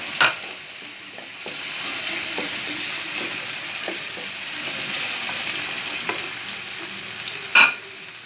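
Onions and vegetables are sautéed lightly in a pan for vegetable pasta, giving a soft, steady sizzle. A spoon stirs and scrapes now and then, with a sharper clatter near the end and no voices.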